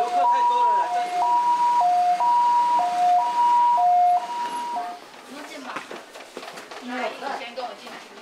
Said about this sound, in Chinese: 救护车快来了